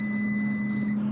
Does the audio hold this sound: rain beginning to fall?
no